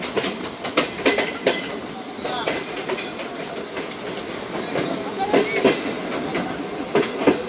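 The Karachi Express pulls in at Drigh Road junction, its wheels clattering in irregular metallic clicks and knocks over a constant rolling rumble, fairly loud and near.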